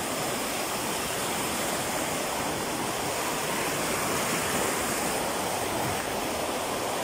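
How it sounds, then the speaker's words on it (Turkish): Spring water gushing out of the foot of a mountain at the Munzur springs: a steady, loud, broadband rush of flowing water, unbroken and constant throughout with no voices. "Dağın eteği boyunca her yerden su fışkırıyor,"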